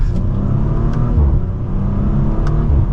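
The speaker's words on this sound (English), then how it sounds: "we got a few pops in that exhaust" A 2024 Audi RS5 Coupe accelerating, its engine droning loud and steady from inside the cabin, with a few faint, sharp exhaust pops crackling at intervals over the rumble.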